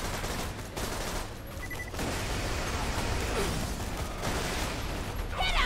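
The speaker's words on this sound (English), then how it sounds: "Got those damned auto cannons." Relentless auto cannon fire in the video game Borderlands 2, a thick rapid barrage of booming shots throughout, loud and close, with occasional explosions and game effects mixed in.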